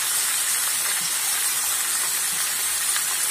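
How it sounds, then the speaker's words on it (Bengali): Bottle gourd stems and mixed vegetables frying in hot oil in a pan, a steady close hiss and sizzle that holds evenly throughout with no pauses. "দিয়ে এই সবজিগুলোকে তেলে খুব ভালোভাবে ভেজে নেব।"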